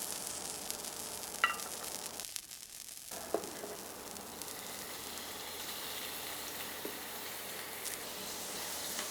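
Garlic sizzles in hot vegetable oil in a pot, a soft continuous crackling fry with a few small pops and one brief dip in the middle, no voices.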